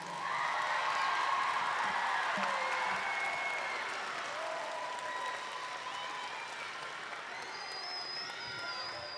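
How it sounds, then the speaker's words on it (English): Sustained applause and crowd cheering fill an indoor winter show venue for a school percussion ensemble, with a dense wash of clapping and scattered whoops, continuous throughout and fairly distant. "how about a nice round of applause for all these students?"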